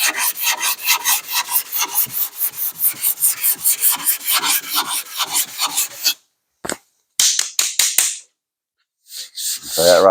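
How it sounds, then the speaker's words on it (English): Sanding block working 2K primer on a car panel, rapid rhythmic rasping strokes up close for several seconds, then a pause and a few shorter scrapes. "Kind of sand this down."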